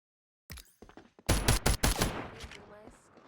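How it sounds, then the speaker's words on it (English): Rapid bursts of gunfire trade back and forth in the shooter game FragPunk, a sparse opening shot followed by dense, loud volleys crowding together before trailing off into a faint ringing tail, with no talk. "He's getting shot from there, and his teammate is shooting back."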